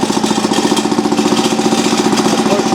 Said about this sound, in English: That's what she looks like when she's running. Of course, it'll speed it up a little bit, that's just idling.